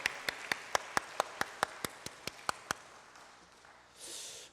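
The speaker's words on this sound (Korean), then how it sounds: "우리 다시 한번 하나님께 영광의 박수 올려드리겠습니다." A church congregation at a Korean Sunday service claps in unison, about a dozen crisp, evenly spaced claps in quick rhythm that then stop, followed by a brief soft rustle.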